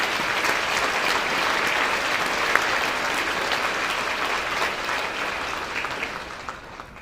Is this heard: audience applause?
yes